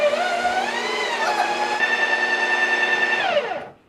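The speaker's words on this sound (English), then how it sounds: "And now it's going to mix all of those pistachio nuts inside of the ice cream." A Ninja Creami machine whirs steadily as it mixes pistachio nuts into protein ice cream, a loud, even motor drone with a slight rise in pitch, then winds down and stops near the end.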